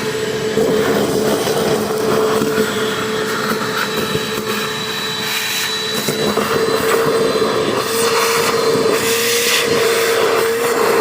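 A shop vac runs steadily at close range, sucking up caked-in debris on an abandoned Honda Fortrax ATV, its drone holding a constant pitch throughout with faint scraping and shifting beneath.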